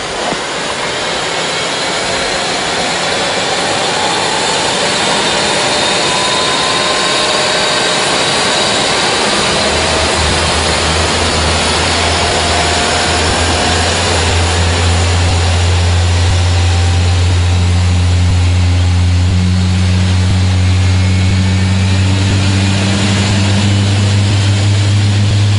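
Engine number two of an Airbus A380 restarting on a test flight, a loud continuous jet whine and roar in which a low drone rises and settles partway through and keeps building to the end.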